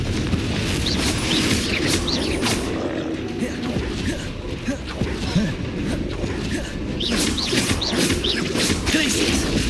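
Confringo fire spell explosions in the video game Hogwarts Legacy: repeated booming, crackling blasts and impacts in a dense, continuous stream of combat sound.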